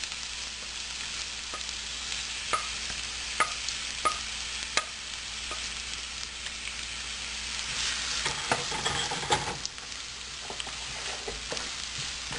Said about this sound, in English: Now I am adding finely chopped onion,